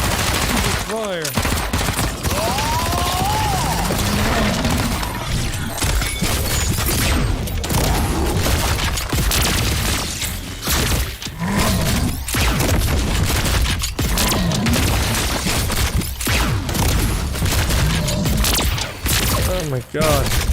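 Guns fire during a boss fight in a fantasy MMO video game, with rapid bursts and volleys of shots, booms and impacts packed densely over a loud, chaotic battle soundscape, with some voice mixed in.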